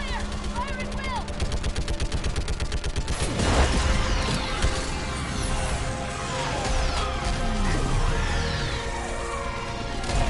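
Sci-fi gunfire and combat noise from Mass Effect 3 during a fight against a live Reaper, with dense rapid shots in the first three seconds, then a heavier blast and continuous battle racket with voices mixed in.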